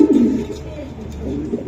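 A racing pigeon cooing up close, a loud, low, throaty coo that swells at the start and repeats in soft rolling pulses.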